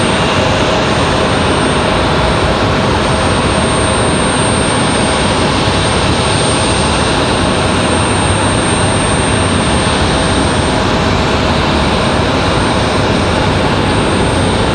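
Jet airliner in Republic Airways livery approaching Raleigh-Durham on arrival from LaGuardia in stormy weather, a loud steady broadband engine roar that fills the whole stretch without easing, no voices over it.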